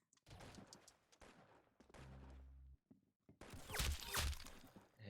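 Bursts of gunfire in the Roblox game Arsenal, with separate volleys and a louder rapid stretch near the end, mixed with game sounds.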